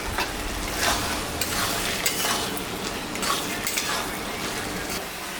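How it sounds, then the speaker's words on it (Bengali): Shrimp frying in a pan for a shola kochu curry, a steady crackling sizzle under repeated scraping stirs of a utensil against the pan, close and fairly loud throughout. "চিংড়ি মাছটা এখন আমি দিয়ে দিলাম।"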